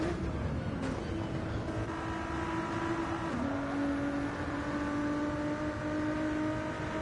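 GT3 race car engine heard from the cockpit in a racing video game at Road Atlanta, a sustained, droning tone under acceleration with a brief pitch dip as it shifts, steady and moderately quiet.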